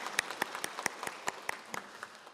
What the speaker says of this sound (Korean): 우리 큰 박수로 축복해 주시기 바랍니다